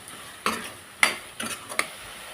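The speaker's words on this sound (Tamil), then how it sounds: "நல்லா ஒரு கிண்டி விட்டுருவோம்." A spoon stirs green peas gravy in a pan with a few distinct scrapes and clinks spaced apart, close by, with a faint sizzle between strokes.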